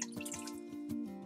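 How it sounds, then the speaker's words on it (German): Water drips from a soaked cloth diaper insert, a rapid run of small close drops splashing in quick succession over a couple of seconds, with no talking. "Jetzt ist sie wirklich tropf nass."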